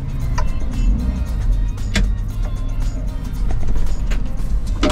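A Maruti Suzuki Super Carry CNG mini truck drives at low speed into a U-turn, its engine a steady close rumble mixed with road noise and a few knocks and rattles.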